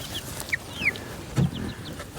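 Chickens cluck in short, soft bursts around a farmyard with a chicken playhouse, a few brief squawks rising over faint background noise, no one speaking.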